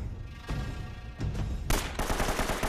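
Gunfire in the video game Uncharted comes as several sharp reports, the last a louder burst that carries on to the end of the short clip.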